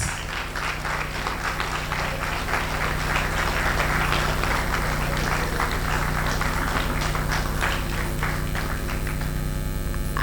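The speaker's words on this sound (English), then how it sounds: "The applause, the applause." Sustained audience applause fills the hall after a speech on disability in Ghana, a steady dense wash of clapping over a constant low mains hum, no voices.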